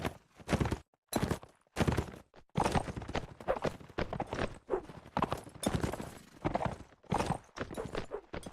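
Horse hooves clip-clop in a video game match. The quick, rhythmic bursts of galloping come close and loud, with short pauses between runs of hoofbeats.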